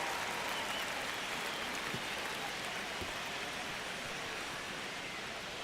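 Stadium crowd noise from the baseball video game MLB The Show 26 during a ninth-inning spring training game, a dense, steady wash of cheering murmur like rain, with no clear voices on top.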